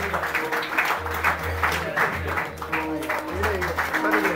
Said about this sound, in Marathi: सर्वांनी स्वागत करण्यासाठी जोरदार टाळ्या वाजवायच्या आहेत.